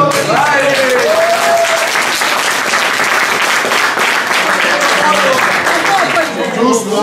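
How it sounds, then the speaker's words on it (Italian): Audience applauding at a minislalom motor race in Reggio Calabria, a loud, dense, continuous clapping that lasts throughout, with a voice calling out briefly over it. "Un applauso"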